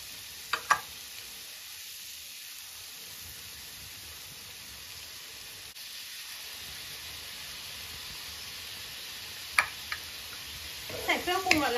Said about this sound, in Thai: ใส่เครื่องปรุงรสแล้วก็ผัดให้เขาเข้ากันค่ะ